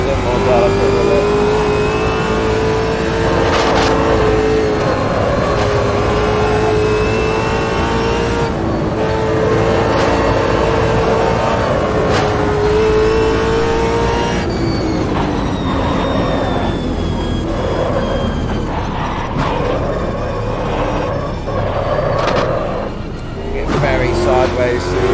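A race car engine in Automobilista 2 at Bathurst, droning loudly and continuously as the throttle is feathered, the pitch rising and dipping with each gentle application. Someone talks over the engine throughout.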